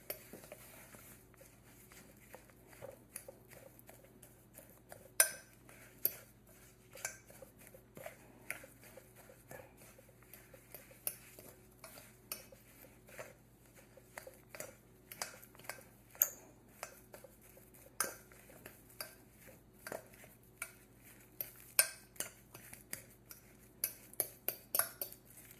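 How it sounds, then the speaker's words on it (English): Banana cream pie crust ingredients stirred together in a metal cake pan, quiet irregular spoon taps and scrapes clicking against the pan, close and alone. "next we're going to mix this together to form the crust"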